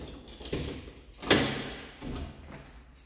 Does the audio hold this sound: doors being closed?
yes